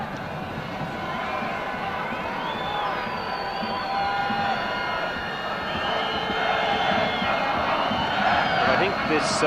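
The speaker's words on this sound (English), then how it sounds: "This big crowd in the Sparta Stadium, which is absolutely jam-packed" A jam-packed crowd at Sparta Stadium during a Czechoslovakia versus Switzerland World Cup qualifying football match roars and cheers at a distance, a broad sustained swell beneath steady commentary.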